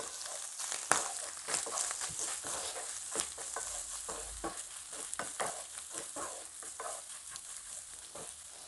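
Masala mixture being stirred in a pan while making samosas and spring rolls, a steady scraping swirl over soft sizzling, continuous and close for the whole stretch.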